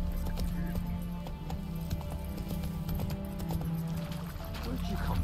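Roach the horse from The Witcher III gallops in a quick, even rhythm of hooves over steady game music and ambience, with a voice talking over it.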